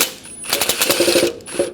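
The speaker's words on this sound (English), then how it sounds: "Using a 10mm socket or wrench, we're going to loosen the adjuster bolt for the alternator." A 10mm socket wrench ratchets on the alternator adjuster bolt of a 1994-1997 Honda Accord 2.2L, giving a short, close burst of rapid metallic clicks.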